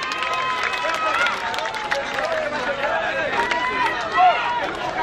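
Steady crowd applause for Loukou Désir at a gathering, a dense, even wash of clapping with lively crowd chatter mixed in throughout.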